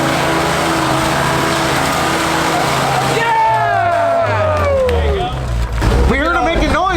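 An off-road vehicle on a sandy trail in Sand Hollow, Utah during a winter jamboree gives a steady engine drone, then revs in rising and falling surges nearby, with voices faintly around it.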